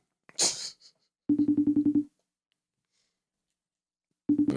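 A FaceTime call rings on a phone: two bursts of rapid, evenly pulsed electronic tones, loud and close, the second cut short, after a brief swish at the start and otherwise silence.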